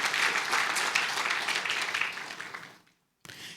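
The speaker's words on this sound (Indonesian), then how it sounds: "Beri tepuk tangan untuk kita semua" Applause from a church congregation during a service, a dense wash of many hands clapping steadily for nearly three seconds, then fading into a brief silence before a short burst resumes.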